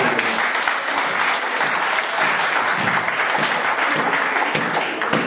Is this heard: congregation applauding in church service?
yes